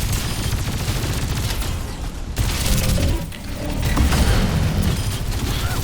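Rapid game gunfire from enemy weapons in Overwatch 2's Toronto PvE mission, dense bursts and booms layered continuously with a brief lull midway, loud and busy throughout.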